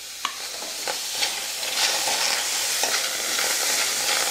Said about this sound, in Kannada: ನಾ ಏನು ಎಣ್ಣೆ ಗಿಣ್ಣೆ ಏನೂ ಹಾಕಿಲ್ಲ, ಹಾಗೆ ಹುರಿ ಹಾಕತ್ತೀನಿ ರೀ.